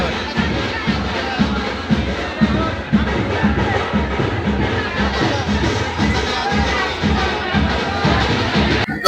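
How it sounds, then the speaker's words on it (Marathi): A dense crowd packs the lanes of a village palanquin procession in Koparagaon, Kharghar, with steady loud babble of many voices and a faint rhythmic drumbeat underneath, continuing without a break. "आता गर्दी खरंच खूप वाढत चालली."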